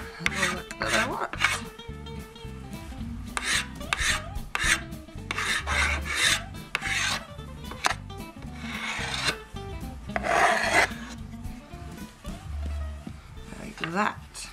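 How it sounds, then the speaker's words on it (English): Metal scraper rasping paint off a wooden chalkboard frame, with steady repeated strokes that are loud and close, broken by short pauses. "I'll take the scraper and kind of scrape some of it off to give it the look that I want."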